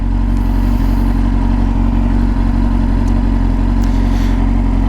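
A 2004 Triumph Daytona 600 sport motorcycle engine runs steadily and loudly up close, a dense continuous mechanical drone with faint clatter and no distinct rev peaks.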